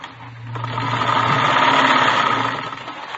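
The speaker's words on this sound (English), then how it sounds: "She was sitting calmly at a sewing machine, stitching ruffles on a dress." A sewing machine stitches ruffles on a dress in a room, its motor whirring in a steady, swelling mechanical buzz that holds for a few seconds and then eases off, heard alone.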